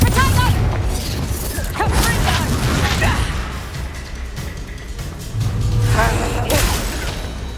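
Confringo fire-blast spells exploding during a duel in the video game Hogwarts Legacy, a run of booming bursts and whooshes over a continuous loud rumble of combat effects.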